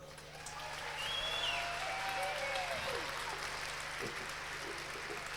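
Sustained applause from a concert audience in Turku, steady clapping that swells in the first second and holds at an even level to the end.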